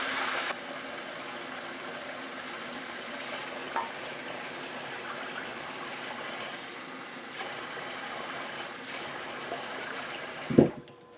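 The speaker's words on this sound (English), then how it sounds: "Cup and a half of water, hard boil." Water being poured into a pot for a hard boil in a home kitchen, a steady continuous splashing and rushing stream held close and fairly loud, ending with a brief clunk.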